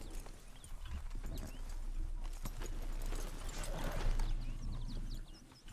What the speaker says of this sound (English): Love that horse. So cool looking.